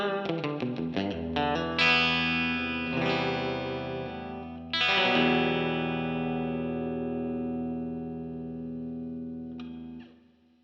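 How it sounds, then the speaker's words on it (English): Guitar through an HX Stomp spring reverb rings out with a splashy, lingering reverb tail; a quick run of plucked notes, then sustained chords that slowly fade. "So now this turns on and off the spring reverb."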